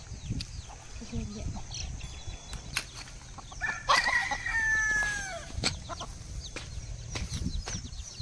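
Country chickens in a rural setting, with scattered clucks and a drawn-out call among quiet outdoor background noise and faint knocks, moderately distant.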